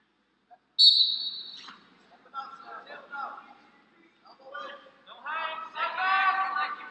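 A referee's whistle sounds once, shrill and clear for under a second, during a Virginia vs North Carolina college wrestling dual, and a commentator then talks over faint crowd noise.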